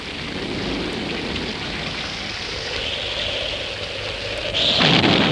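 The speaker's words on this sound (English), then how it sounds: "In this case, rain." Heavy rain falls on an early outdoor film set as a dense, steady hiss that swells louder just before the end.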